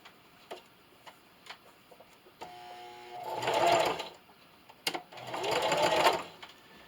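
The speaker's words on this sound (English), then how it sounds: "And just continue to sew." A sewing machine stitches a baby bib in two quick bursts of rapid, clattering needle strokes, with soft ticks and handling clicks between them, close and fairly quiet.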